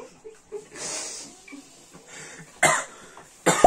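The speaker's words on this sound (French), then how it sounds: "il tousse exprès" Several short, close coughs and throat-clearing bursts, with two sharper, louder coughs near the end and quiet breathing between.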